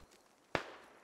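A single grenade explosion in the video game Squad Ops, one sharp sudden burst that quickly fades to a low background hum.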